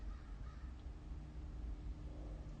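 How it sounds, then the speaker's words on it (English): A crow gives faint caws in the distance over a steady outdoor rumble of traffic and wind. "a crow flew out in front of me"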